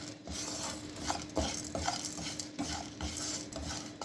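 A spoon scrapes and clinks against a pan as cumin seeds are dry-roasted over low heat, with irregular close stirring knocks over a faint sizzle and no talking.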